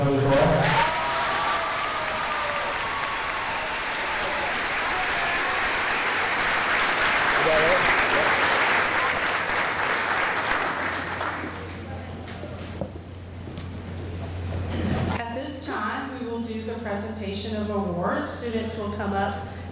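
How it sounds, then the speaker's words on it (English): A school graduation crowd applauds the class of 2024, with dense clapping swelling for about ten seconds, then thinning and fading out as a low hum and a voice speaking take over near the end. "can we get a round of applause for the class of 2024?"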